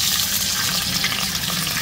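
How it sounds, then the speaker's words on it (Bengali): Water poured into a cooking pot over fried onions, a steady splashing rush heard close and continuous for the whole moment, no voices. "তো আমি পানি দিয়ে নেবো।"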